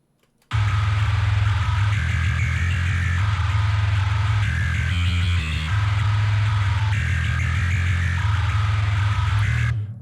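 A thick, heavily distorted bass guitar plays alone, loud and sustained, with a low rumbling riff that briefly shifts pattern midway.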